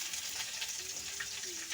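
Chopped onion goes into hot oil with fried cumin and a bay leaf. It gives a soft, continuous sizzle close by, faint overall, with a brief tonal squeak partway through.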